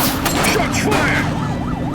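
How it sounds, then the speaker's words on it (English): Rapid gunfire crackling in GTA The Precinct, bursts of shots over a wailing police siren and busy street noise in the background. "Shots fired!"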